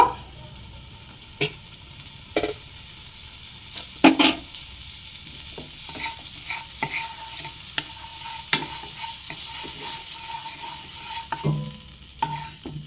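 Butter sizzling and frying in a wok for patishapta pancakes, a constant soft sizzle broken by sharp clinks and scrapes of a utensil against the pan, with no voices.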